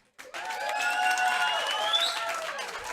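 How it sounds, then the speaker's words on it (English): Studio audience at a comedy show responds with a burst of applause and whooping cheers that starts abruptly, swells and holds steady for a few seconds, moderately loud in a room. "If you think Yasser's right, clap."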